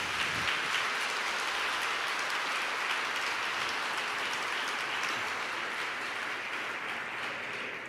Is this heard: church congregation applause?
yes